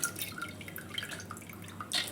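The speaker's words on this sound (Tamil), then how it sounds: "தண்ணியெல்லாம் வடிகட்டிட்டு" Water draining from soaked lentils for Kancheepuram idli, a quiet, close trickle of drips and a thin stream, ending in a slightly louder splash, with no voices.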